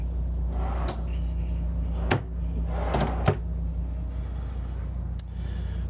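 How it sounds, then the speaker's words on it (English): Soft-close cabinet doors in a Prevost H3-45 double-slide bus conversion open and shut, giving several muted clicks and soft thumps spaced a second or so apart over a low, steady background hum. "These are all soft close cabinets, as you can see."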